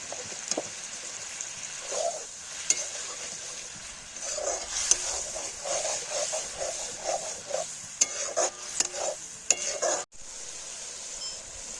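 Chopped tomatoes are stirred into a sizzling frying pan of country chicken curry, giving repeated scraping stir strokes over a steady frying hiss, close and fairly quiet, with no talking.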